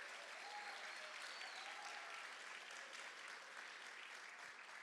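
A church congregation claps together in a sustained, even round of applause, dense and continuous, with faint voices mixed in.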